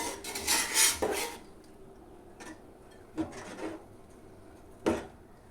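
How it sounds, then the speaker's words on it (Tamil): A spoon gently stirs chicken dum biryani rice in a pot, making a few soft, separate scraping and clinking strokes with quiet pauses between them. "சிம்மில் வச்சுட்டு அப்படியே லைட்டாக ஒரு கிளறி விடணும்."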